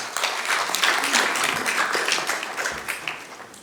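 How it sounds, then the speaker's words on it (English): A short burst of applause from a small group, scattered hand claps filling a few seconds and tapering off. "We don't usually clap here, it's kind of like a church."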